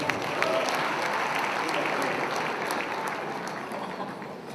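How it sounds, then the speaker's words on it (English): Audience applause for a singer at a gala awards night, a steady wash of many hands clapping that fills the room at an even level and eases slightly toward the end. "A big round of applause for Divya"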